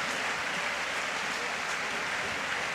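Crowd applause fills a badminton arena at the 2014 BWF World Championships after a long rally between Wang Shixian and Yip Pui Yin, a dense, even clapping wash lasting throughout.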